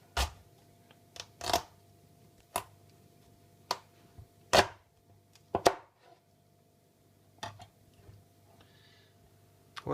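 A knife cuts through a pumpkin on a board, producing a series of sharp, separate knocks and thuds at irregular intervals, close and fairly clear against a quiet background.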